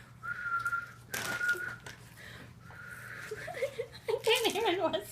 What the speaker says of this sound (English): what's another one? Whistling.